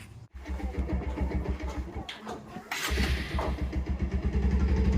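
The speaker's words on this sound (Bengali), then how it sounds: "এই বাইকে বাইকে চেপে মাঠে যাব" A motorcycle engine chugs steadily up close, its low throbbing rising slightly as it revs, with no talking.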